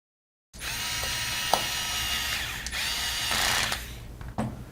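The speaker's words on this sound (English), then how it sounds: "let me just put the screws in." A power driver runs in short bursts, driving screws into a split mechanical keyboard. It sounds close and whirring, with small clicks and ratcheting taps between the pulls of the trigger.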